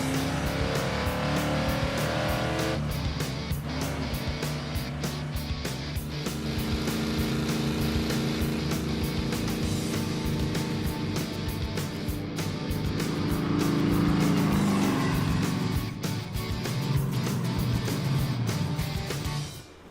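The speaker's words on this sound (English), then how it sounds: "Look, I can just drive it one-handed, elbow on the windowsill." A Plymouth Road Runner's V8 engine rumbles steadily while driving, a loud, continuous drone from inside the car that swells slightly toward the end.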